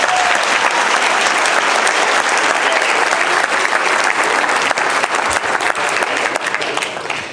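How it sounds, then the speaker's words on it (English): An audience gives a round of applause, loud and sustained clapping from a sizeable crowd, close and continuous before tapering slightly at the end. "Give him a round of applause."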